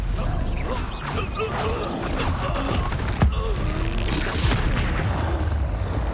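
A Confringo blasting spell bursts in Hogwarts Legacy amid busy spell combat, with one sharp booming hit standing out over a steady churn of magical effects and clatter.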